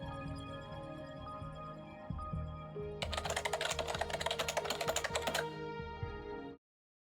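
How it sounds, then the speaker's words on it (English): Typewriter typing in the video game Honkai Impact 3rd, rapid mechanical key strikes clattering in a quick run over a sustained musical background that cuts off at the end. "That typewriter continued to work ceaselessly."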